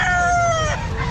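Chickens crow and cluck loudly together at a market, a rooster's drawn-out call rising over a constant busy din of fowl close by.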